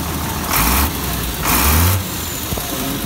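A 1998 International truck engine fitted with a new, larger turbo idles loudly up close, with a steady diesel rumble and two brief swells in revving and turbo hiss.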